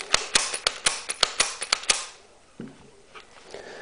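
Rapid pistol shots from a Walther P22, Kel-Tec P11 and SIG 226 Elite during a lubricant test, about ten sharp cracks in quick irregular succession over two seconds, then a quiet tail with faint handling noise.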